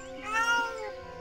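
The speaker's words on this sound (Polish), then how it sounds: "Ach, tutaj jesteś, dziwny z ciebie kot." Cartoon cat meows, one drawn-out, tonal and slightly wavering cry that swells in the middle and fades, heard close and clear with no talking.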